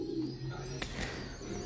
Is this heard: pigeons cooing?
yes